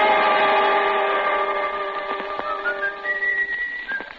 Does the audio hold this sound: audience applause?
no